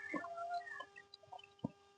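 A few short clucks from native country chickens in a poultry shed in Karnataka, scattered and fairly close, with quiet gaps between them and no talking.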